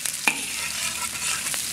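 Scallion and ginger fry in soybean oil in a wok, giving an even, close hiss that runs the whole time. A few brief scrapes or clinks break into it, with no talking.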